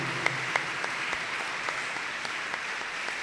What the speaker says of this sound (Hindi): आए भरपूर तालियों में खुदावंद का शुक्रिया अदा करते हैं